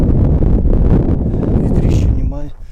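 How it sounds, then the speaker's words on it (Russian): Strong wind on a frozen lake during winter ice fishing, a loud, steady roar buffeting the microphone for most of the clip, easing near the end as a voice briefly speaks. "Ветер, обалдеть."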